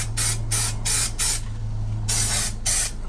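Spray adhesive hissing from a can onto a van trim panel, heard as three quick close bursts, a short pause, then two more bursts, with a steady low hum beneath.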